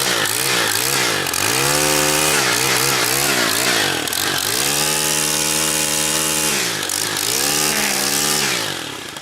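A STIHL two-stroke engine, fresh from a cold start, runs loud and close, its buzzing revs repeatedly climbing and falling in raspy waves before settling.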